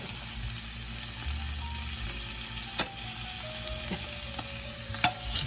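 Chicken browning in a pan sizzles and fries steadily, with occasional sharp clinks and scrapes from stirring, close and fairly loud, with no voices.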